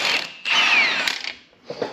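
A hand ratchet loosens brake caliper bolts on a 2001–2010 GM Duramax pickup. Close, dry clicking comes in two bursts with a short pause, then a softer trailing bit.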